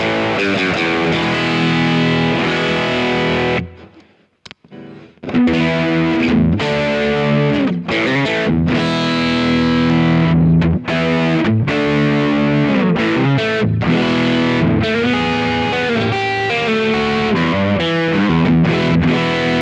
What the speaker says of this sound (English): Let's go for some Marshall JCM 800 style high gain,